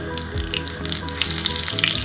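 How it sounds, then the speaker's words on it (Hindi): Fenugreek seeds sizzling and frying in hot oil for a spicy cucumber and potato pickle, a steady close crackling sizzle with no speech. "उसके बाद ये मेथी फुलाएंगे गरम होने के बाद"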